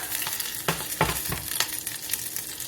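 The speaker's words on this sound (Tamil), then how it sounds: "ஆனியன் இந்த லெவலுக்கு ஃப்ரை ஆனதும்" Onion frying in a pan of oil for fish kulambu, a steady close sizzle with a few soft scrapes and taps as it is stirred.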